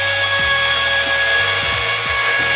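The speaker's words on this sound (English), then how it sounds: "then I trim the edges of my panel before top coating" A power tool trims the edges of a wooden panel before polyurethane top coating, a sustained high motor whine running throughout with a few low, dull thumps beneath it.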